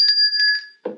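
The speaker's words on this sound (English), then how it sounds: "There's your bell ring for that" A single bright bell rings out clearly, its ringing tone sustained for most of a second before cutting off, followed by a brief burst of other sound.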